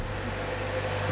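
A car engine idles steadily after being jump-started with booster cables still attached, a constant low hum with a faint mid-pitched whine running unchanged throughout.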